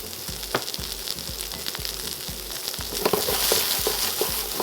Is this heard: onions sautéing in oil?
yes